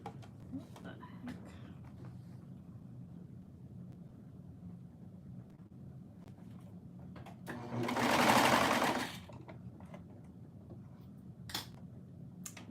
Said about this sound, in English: I'm sewing my shorts.